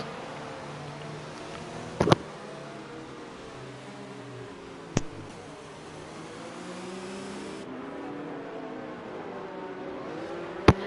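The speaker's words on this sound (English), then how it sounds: "We see the cars here going around under safety car" Racing cars in an F1 esports video game running behind the safety car at the Russian Grand Prix, a steady engine drone with a few sharp clicks, at moderate level and with no talking.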